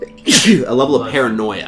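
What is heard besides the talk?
sneeze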